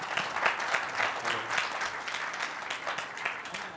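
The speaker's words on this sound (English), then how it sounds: "Give him a big round of applause." An audience gives a big round of applause, a continuous wash of many hands clapping at moderate volume that holds steady from start to finish.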